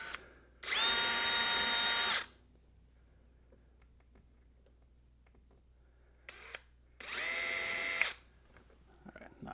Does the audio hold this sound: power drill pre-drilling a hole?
yes